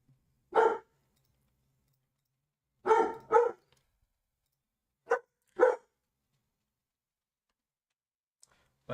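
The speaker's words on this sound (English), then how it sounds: "I got my dog barking and everything." A dog barks in short separate bursts: one bark, then a double bark, then two more, sharp and fairly close, with quiet gaps between and no talk.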